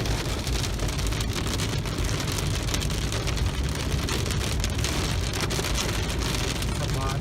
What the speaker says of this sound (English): So it's storming, and it's raining pretty hard.